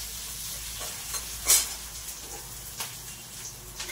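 Capsicum and onion frying in a pan, a soft continuous sizzle with a few brief stirring scrapes and one sharper clink, fairly faint and close.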